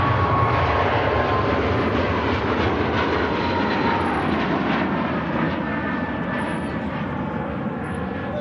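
A Ryanair airliner taking off at Manchester Airport, a steady broad jet roar at a distance holding level for several seconds and fading slightly toward the end.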